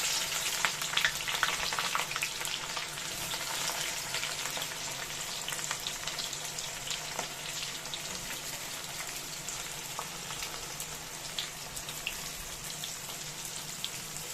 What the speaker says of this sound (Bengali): এবার আমি কড়ার মধ্যে পেঁয়াজগুলো দিয়ে দিচ্ছি